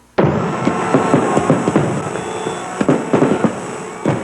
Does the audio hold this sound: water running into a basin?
no